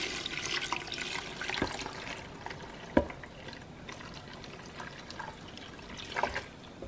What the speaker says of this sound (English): And now the water that I got from the chiles, I'm gonna add a little bit in here.